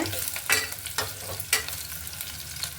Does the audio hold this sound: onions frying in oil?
yes